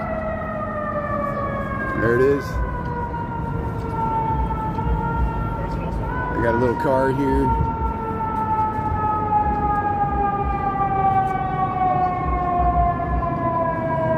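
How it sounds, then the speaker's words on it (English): Emergency sirens wail continuously with a slowly falling pitch, loud and close, over steady downtown Chicago street traffic at noon, while someone speaks briefly nearby. "Here comes some sirens."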